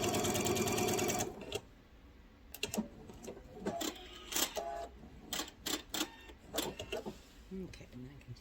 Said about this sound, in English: And I'm going to follow my line as I sew.